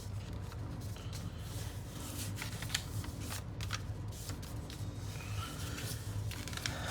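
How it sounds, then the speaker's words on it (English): Paper creases being folded into an origami rabbit ear fold give soft, close crinkles and quick crisp rustles that come in irregular bursts over a faint background hum. "we're going to do a rabbit ear fold"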